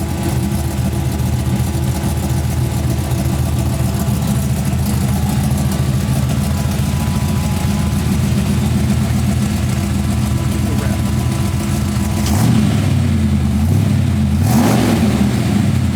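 A 1958 Chevrolet truck engine idles steadily with a rough low rumble close by, then revs up briefly near the end, with people talking over it in a garage build setting.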